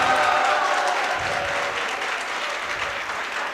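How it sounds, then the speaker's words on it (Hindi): Loud, dense applause from an audience welcoming students at a Vedic mantra recitation competition at a Sanskrit college, steady and sustained throughout without a break. "तालियों के द्वारा स्वागत।"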